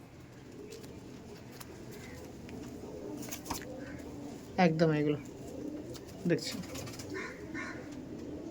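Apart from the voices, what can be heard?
high-flying pigeons cooing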